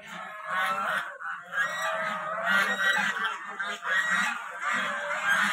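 A flock of geese honks near a temple at Basudev Than in Dhakuwakhana, Assam, with loud, repeated, overlapping calls in bursts close by and no talking.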